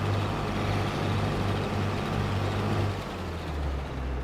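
A tractor engine in Farming Simulator 22 drones steadily at close range, a loud, constant low rumble that drops slightly in pitch and level toward the end.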